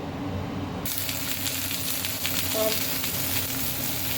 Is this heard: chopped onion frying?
yes